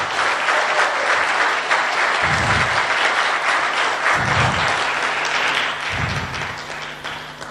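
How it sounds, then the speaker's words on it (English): A Toastmasters tall tales contest audience gives loud, sustained applause for the contestants, a dense clatter of clapping with a few low thumps beneath it. "they deserve very generous round of applause for what they did for us today"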